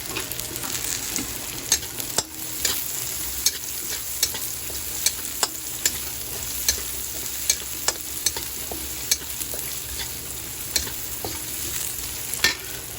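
Onion sautés in a hot pan for a Filipino vegetable and fish dish, producing a continuous sizzle with regular sharp clicks of a spatula against the pan, close and steady without speech.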